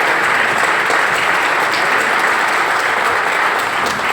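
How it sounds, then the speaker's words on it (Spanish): A conference audience breaks into strong, continuous applause to welcome Dr. Néstor Berlanga to the stage, a thick, even wash of many hands clapping throughout, close and loud, with no voices over it. "por favor, aplauso fuerte, ayúdenme a recibir al doctor Néstor Berlanga"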